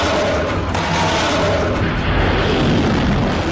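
A deep, rumbling explosion on the Russia-Ukraine border fills the clip, loud and continuous with a broad roaring wash and no talk.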